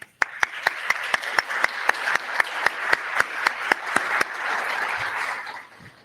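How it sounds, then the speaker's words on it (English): An audience at a scholarship prize ceremony applauds the exhibitors, the clapping building into a dense, sustained round before tapering off near the end. "a round of applause to the exhibitors particularly"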